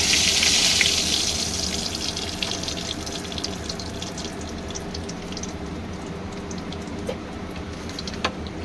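A bay leaf and black cumin seeds hit hot oil for tempering, throwing a bright hissing sizzle that flares at first and then settles into a steadier crackle with small pops.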